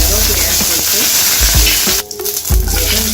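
Cinnamon and cloves crackle and sizzle loudly in hot oil at the start of a Tamil-style mutton chukka fry, a dense close hiss with a few stirring knocks of a spoon against the pan.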